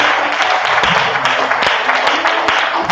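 A church congregation applauding and cheering loudly for the Lord during a worship service, dense continuous clapping with voices rising underneath, close and full.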